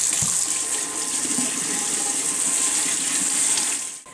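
Cold tap water running steadily into a sink over blanched celery and other vegetables, a continuous close splashing rush that cuts off abruptly at the end.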